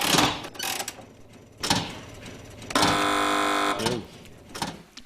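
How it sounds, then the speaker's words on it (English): A loud, sustained electronic game show buzzer blares for about a second on a TV panel quiz, set among shorter bursts of noise and clatter before and after. "Fingers on buzzers, teams."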